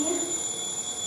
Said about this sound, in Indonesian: Tapi alarm udah bunyi, berarti pertanda udah jam 7.